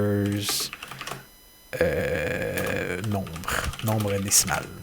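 Quick keystrokes clatter on a computer keyboard while someone speaks French over them, the taps landing in short bursts between and under his words.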